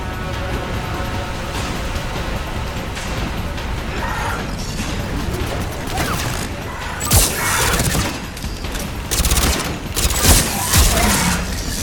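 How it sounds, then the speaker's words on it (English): Gunfire in the Mass Effect 3 video game, with loud rapid bursts and booming impacts over a dense battle din, growing heavier and choppier in the latter half. "Look at Cortez firing a gun himself."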